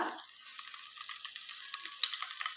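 Cumin seeds sizzle in hot melted ghee for a tadka for lentils, a soft steady crackling hiss that flares briefly at the start and then settles into a faint, even fizz with no voices.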